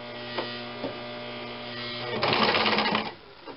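A sewing machine stitches a nun's veil fabric, with faint motor hum and a couple of single ticks before a short, louder burst of rapid stitching that stops abruptly near the end, close by.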